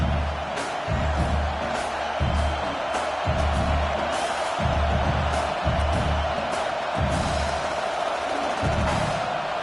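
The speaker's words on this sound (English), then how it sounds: "This crowd busting the decibel meter and trying to will a 4th down stop." A stadium crowd at a football game roars and cheers continuously during a fourth-down defensive stand, a dense, loud wall of voices with rhythmic pulsing swells.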